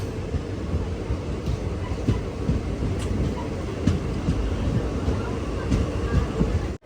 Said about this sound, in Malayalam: കൊല്ലം ജംഗ്ഷൻ റെയിൽവേ സ്റ്റേഷനിലേക്ക് ഇതാ നമ്മുടെ ട്രെയിൻ എത്തുകയാണ്